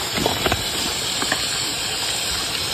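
Onions fry in a pan over a campfire at night, a steady, loud sizzling hiss with faint scraping and stirring sounds underneath, and no one speaking.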